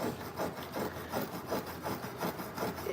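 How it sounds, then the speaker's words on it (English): Paint is sanded by hand off a Penn 8500ss spinning fishing reel in rapid, rhythmic back-and-forth scraping strokes, close and steady, with no talking. "So it's going to be a little bit of sanding."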